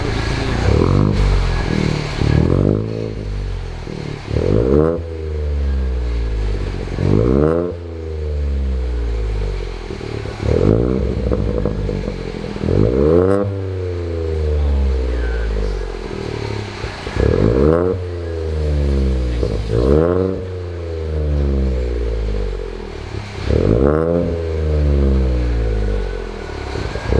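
A Ford Fiesta Zetec S Black Edition fitted with a Cobra exhaust, revved repeatedly while stationary, each blip rising sharply and dropping back to idle in a regular rhythm of loud, close exhaust bursts, with some wind noise.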